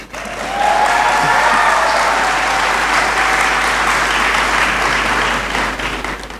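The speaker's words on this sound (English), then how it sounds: "I think you can clap." Sustained audience applause at a university congregation (graduation) ceremony in a great hall, a dense, loud wash of many hands clapping that swells quickly and holds steady for several seconds before easing slightly.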